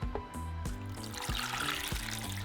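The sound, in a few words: water poured into pot of tomatoes and jalapeños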